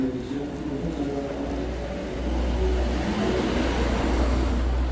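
Minibus engine revving outside on a street in the morning, a low muffled rumble that swells louder partway through and holds, heard at some distance.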